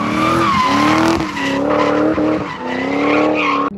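A drift car with a Toyota 2JZ engine skids hard, its tires squealing loud and steady over a droning engine for several seconds. The sound cuts off sharply at the end, and no one speaks.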